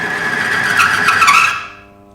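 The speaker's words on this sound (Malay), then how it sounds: "Dengar tak bunyi geseran tu kuat?" A motor oil pressure test machine loaded with black engine oil gives off a loud, harsh grinding friction screech that builds briefly, then cuts off abruptly and leaves near silence.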